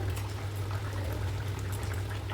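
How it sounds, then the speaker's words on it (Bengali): A pot of papaya and rohu fish curry simmering steadily on a gas stove, with a continuous soft bubbling hiss and low hum as the lid comes off, close and even throughout with no talk. "এবার ঢাকা তুলে নিচ্ছি।"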